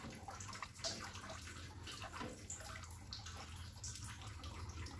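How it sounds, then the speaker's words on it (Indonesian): Milk is poured into chocolate pudding mixture while it is stirred, a continuous close watery pour with soft sloshing and occasional drips. "Sambil diaduk, kita akan menuangkan susunya."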